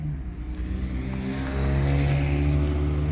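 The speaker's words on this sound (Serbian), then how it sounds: "Baš mnogo kola prolazi" Cars pass by on a busy road beside a parked Audi TTS, with a continuous engine rumble and tyre roar that swells louder in the second half as traffic goes by close at hand.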